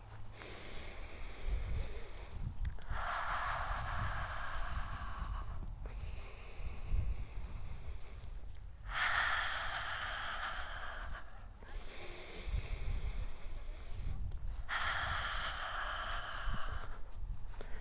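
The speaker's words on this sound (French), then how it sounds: "faire 3 grandes respirations" Three slow, deep breaths follow one another at a calm, even pace, each a long airy inhale and exhale close to the microphone, with quiet pauses in between.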